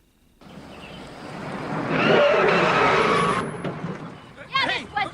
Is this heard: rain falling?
no